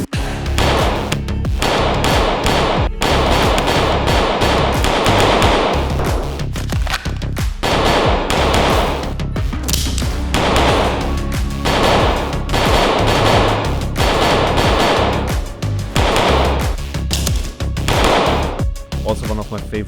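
Shots from a VENATOR pistol crack across a shooting range in a steady, repeated series of loud reports spaced about a second or two apart, with voices underneath.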